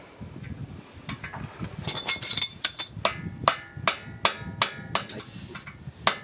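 A hammer striking a chisel while removing the driver-side CV axle on a 2011 Toyota Sienna: a run of sharp, close metallic blows at a steady rhythm, about eight or so, over light background noise.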